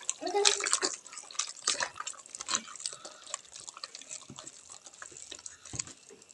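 Jaggery dissolved in a little water being stirred by hand in a bowl, a soft irregular sloshing and scraping that runs throughout at close range, with faint clinks and no talk.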